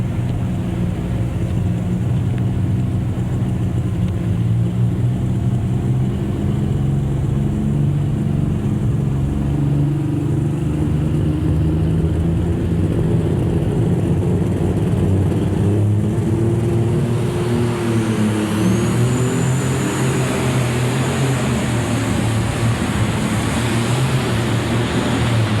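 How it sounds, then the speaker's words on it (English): Alcohol-fueled Allis-Chalmers 8050 pulling tractor at a light super stock tractor pull in Louisville, its engine droning steadily and loud on the starting line, with a rising rev near the end and wind buffeting throughout. "An 80-50, Alice Chalmers, ladies and gentlemen, on the starting line"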